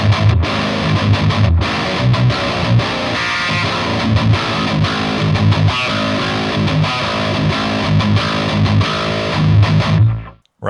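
A heavy, tightly distorted electric guitar played through a Fractal Audio AM4 amp model chugs out dense, loud riffs with palm-muted rhythmic bursts, playing alone and stopping sharply at the end.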